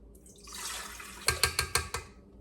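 One and a half cups of warm water poured into a mixing bowl for soft pretzel dough: a soft close splash, then about five quick sharp splashes in a row before it fades.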